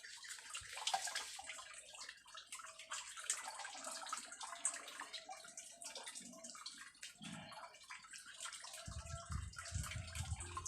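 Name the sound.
last of liquid organic fertilizer pouring out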